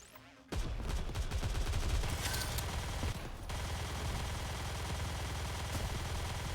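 Sustained automatic gunfire in the video game Nikke: Goddess of Victory, a loud continuous roar of shots that starts abruptly and runs unbroken to the end.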